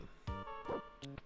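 Short bursts of dog barking and yipping from the Final Fantasy VI video game, a few quick separate barks within a second, fairly faint.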